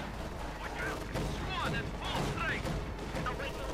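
Gunfire from a Company of Heroes 2 match, a Panther and Stormtroopers fighting conscripts, crackles as a steady dense barrage with no pause for the whole stretch, mixed with other battle noise.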